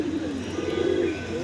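Pigeons coo close by, soft low throaty calls repeating in a gentle rolling rhythm, heard around their bathing during molting season.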